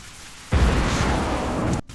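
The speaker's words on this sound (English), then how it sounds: "That first explosion is absolutely on point." An AI-generated explosion sound effect hits with a sudden loud boom, then a rumbling roar of debris holds for over a second before cutting off abruptly.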